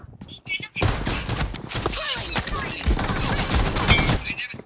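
Video game gunfire rattles off in dense, loud bursts of automatic shots, mixed with excited voices of players talking over the shooting.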